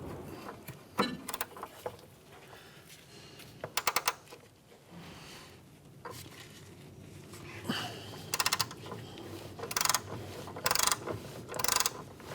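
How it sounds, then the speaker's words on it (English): A ratchet wrench with a 17mm socket loosens the bottom bolt of a front sway bar link on a 2011-2016 Hyundai Elantra, giving several bursts of rapid, close clicking separated by pauses, with no speech. "we're going to hit this bottom bolt with a 17mm socket"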